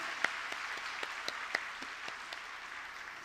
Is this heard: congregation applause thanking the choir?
yes